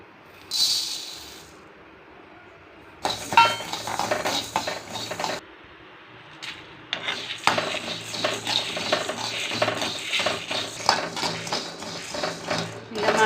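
Coriander seeds and dried chillies dry-roasting with a little salt in a pan on a Tamil home kitchen stove, a spoon scraping and stirring in steady rattling bursts with a short pause in between, close by and moderately loud.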